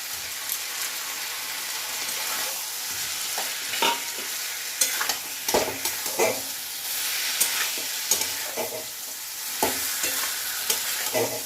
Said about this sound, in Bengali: চিংড়ি মাছটা আমি এর সঙ্গে কষে নিচ্ছি